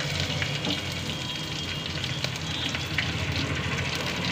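Onions and green chillies sizzling steadily in hot oil in a pan for a mango dal curry, a dense continuous close-up crackle with occasional light stirring and no talk.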